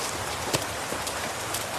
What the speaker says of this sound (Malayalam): ഓ മഴ തുടങ്ങിയല്ലോ